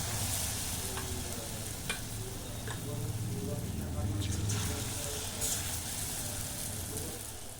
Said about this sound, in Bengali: এইভাবেই একে একে আমি ভেন্ডিগুলো তেলের মধ্যে দিয়ে দেব।